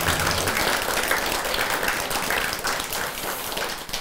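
A temple congregation at Bomunsa on Ganghwa claps steadily in a sustained, dense round of applause during a Buddhist dharma ceremony, loud and continuous with no talk over it.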